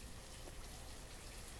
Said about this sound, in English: it's raining right now, so I can hear this lovely rain sound in the background